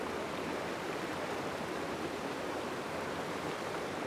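A waterfall in Padley Gorge pours steadily, a constant broadband rush of falling water, even and unbroken throughout, with no voices.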